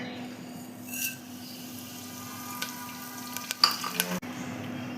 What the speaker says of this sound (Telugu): ఆయిల్ వేడైన తర్వాత ఆవాలు జీలకర్ర ఎండుమిర్చి కరివేపాకు మిన శనగ మినపప్పు పోపు దిశలండి ఇవి వేయాలి